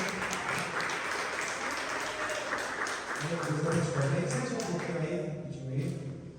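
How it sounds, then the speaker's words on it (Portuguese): Steady congregational applause fills a church service, a dense, even wash of many hands clapping throughout, with voices talking over it. "Aplauda o Senhor em nome de Jesus."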